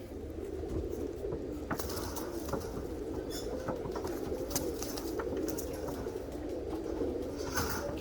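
Tippler pigeons, all cock birds, coo steadily in cages, a continuous low warbling murmur with occasional wing patters and faint scuffles, fairly close and without speech.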